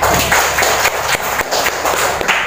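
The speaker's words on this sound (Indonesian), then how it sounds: "Silakan tepuk tangan." A classroom audience at an Islamic senior high school claps steadily and densely, a continuous wash of many hands applauding together at close range, with no voices standing out.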